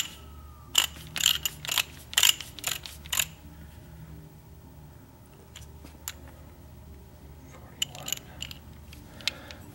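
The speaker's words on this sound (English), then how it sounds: "we're going to take our torque wrench. We're going to set it to 41 foot-pounds first" Torque wrench set to 41 foot-pounds snugging crankshaft bolts on a 1.3L Suzuki Samurai engine rebuild, a quick run of sharp ratcheting clicks in short bursts, then quieter scattered clicks.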